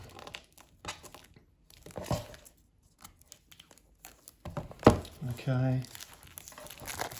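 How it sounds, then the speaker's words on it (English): Plastic wrapping on a Blackwing sketchbook is cut and then torn away, making close crinkling and rustling bursts with a sharper ripping stretch near the end; a voice speaks briefly. "So I'm just going to carefully cut that plastic there."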